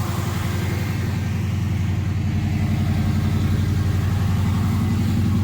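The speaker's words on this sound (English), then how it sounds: "So our idle's running a little high." A Chevy Nova engine fitted with Holley Sniper EFI idles high in a steady, close, pulsing drone that holds evenly throughout with no talk.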